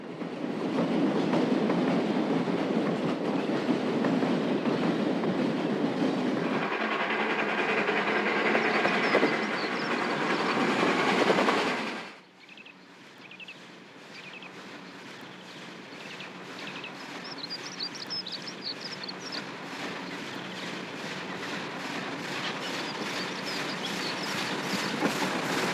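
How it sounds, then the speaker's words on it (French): A train near the Fontainebleau forest in France roars past close and loud, then drops to a quieter, steady rhythmic rail clatter that slowly builds again. "Et les trains ne sortent de la forêt de Fontainebleau que pour s'envoler sur le Grand Viaduc."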